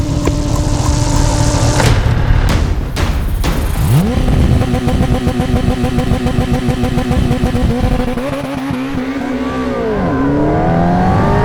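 A Kawasaki Ninja ZX-10RR sport motorcycle revs hard and launches using launch control, roaring loud and close as it accelerates through rising pitch sweeps, with a brief thump early on.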